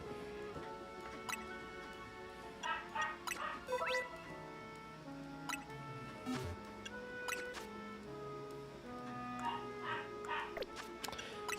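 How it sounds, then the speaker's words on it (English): A dog barking upstairs, muffled and distant, in two short clusters of yelps over quiet video game sounds from a Pokemon Legends ZA session on a Nintendo Switch 2. "I don't know why my dog keeps barking upstairs"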